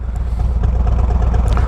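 A 2023 Harley-Davidson Road Glide Special with Screaming Eagle Stage 2 pipes idling close by, a deep, loud, choppy rumble pulsing rapidly and steadily.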